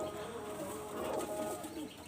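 Teddy Golden Kamagar pigeons at a pigeon seller's, soft low cooing running steadily throughout amid a busy ambient background, moderately close with no clear talking.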